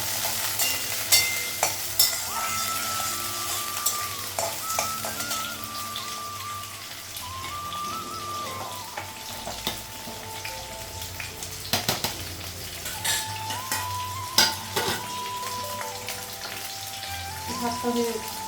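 Potato and green chilies frying in a pan with okra, a steady crackling sizzle with occasional spatula scrapes and clinks, close and continuous throughout, without talk.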